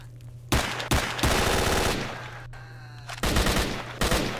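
Automatic gunfire in the video game S.T.A.L.K.E.R., loud close bursts of rapid shots breaking off and starting again over a steady low hum, in several separate volleys.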